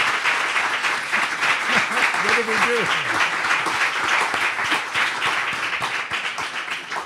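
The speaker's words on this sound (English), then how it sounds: "if we could give them a quick round of applause before we go to Q&A" A dense, sustained round of applause from the audience at a community event about a burning river, with a brief spoken voice rising over the clapping partway through.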